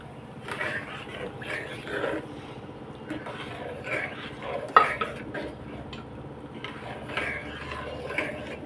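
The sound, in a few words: stirring cooked dal mixture in a pot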